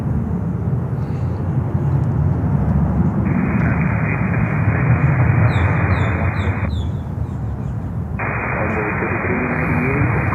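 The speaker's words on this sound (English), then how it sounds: "Next inbound here is American Airlines flight 3108 from Austin, Texas." An American Airlines Boeing 737-800 arriving at Miami airport makes a loud, continuous broadband jet roar that holds steady throughout, with radio chatter and faint chirps over it.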